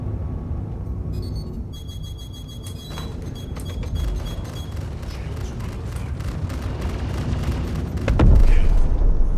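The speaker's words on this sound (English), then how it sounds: "when the missile hits him" A missile strikes and explodes in a video game, with a rumbling boom that swells near the end over a continuous din of game noise.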